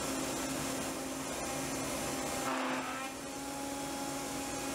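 A CNC router spindle runs with a steady, loud broadband whir and a constant tonal hum, briefly shifting in pitch midway, with no talk.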